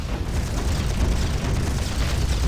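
Heavy, continuous booming roar of cannon blasts in the video game Panzar, dense and loud throughout with no clear gaps between hits.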